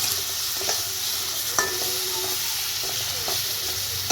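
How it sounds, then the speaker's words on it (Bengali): Spice paste for a young jackfruit curry fries with a little water in a pan, giving a steady close sizzle and hiss with a few light spoon taps and stirring clicks, no talk. "আমি অল্প একটু জল দিয়ে এই মশলাটা ভালোভাবে আমি কষিয়ে নেব।"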